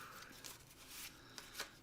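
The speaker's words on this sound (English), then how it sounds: "So I'm going to shuffle these" Marvel Champions playing cards being shuffled at close range, soft riffling swishes and a few brief slaps, quiet, with no talk.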